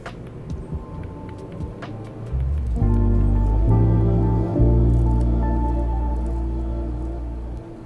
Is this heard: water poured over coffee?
yes